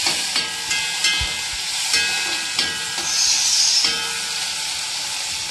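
Steady sizzling and hissing from fruit sautéing in ghee for pineapple kesari, with occasional soft stirring clicks, close and continuous, no talking.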